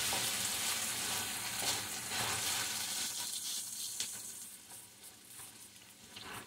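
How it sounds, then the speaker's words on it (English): Egg pie sizzles in olive oil in a pan while being stirred slowly, a close, steady frying hiss with soft scraping strokes that gradually ease off. "Just stirring it slowly, so it'll cook slowly."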